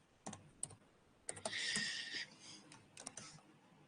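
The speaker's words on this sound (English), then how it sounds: "My typing can be a bit slow." Quiet typing on a computer keyboard during a recorded finance lecture, with scattered key clicks followed by a denser burst of rapid keystrokes, then a few more taps, heard close and alone.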